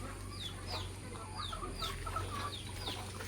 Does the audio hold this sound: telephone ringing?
no